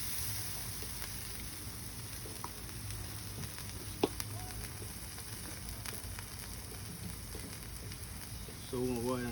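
Food cooks on a hot griddle with a steady, moderately quiet sizzle and faint crackles throughout, a single sharp tick near the middle, and a brief voice near the end.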